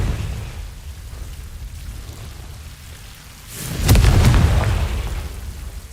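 A Confringo fire spell from Hogwarts Legacy bursts in a loud, sudden boom with a rumbling tail over a steady background roar, the blast landing a few seconds in.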